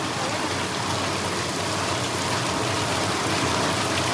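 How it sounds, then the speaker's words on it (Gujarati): Heavy rain pours down steadily in a continuous dense hiss, loud and close throughout with no voices. "તો જો ગાઈસ જબરદસ્ત વરસાદ ચાલુ થયો."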